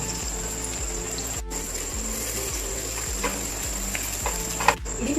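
Onions sizzling steadily in plenty of oil in a pan while a spicy chicken curry is being cooked, a constant close frying hiss with faint stirring clicks and a brief pause partway through.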